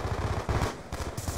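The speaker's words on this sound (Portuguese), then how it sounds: "vamos entrar aqui que tá rolando tiro" Rapid automatic gunfire in the Black Ops 2 shooter on PC, dense rattling bursts with brief gaps, fairly loud and continuous with no talk.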